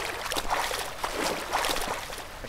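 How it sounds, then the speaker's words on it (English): Loud flowing water rushes continuously in the puzzle video game Qbuh, a steady gurgling splash with rhythmic surges, fairly close and without voices. "past the insanely loud water"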